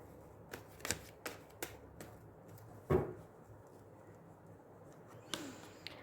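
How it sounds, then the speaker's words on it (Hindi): Tarot cards being shuffled by hand make quick papery riffles and flicks in short bursts, with a sharper snap partway through, close and fairly quiet against a soft background. "सो ओके, शफल कर लेते हैं थोड़ा सा।"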